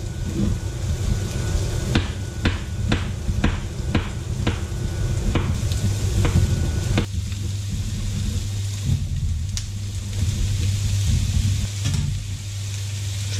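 Zucchini pieces fry in a pan with onions, a continuous sizzle under a low rumbling hum, with a run of sharp knocks or taps near the start, close and without speech.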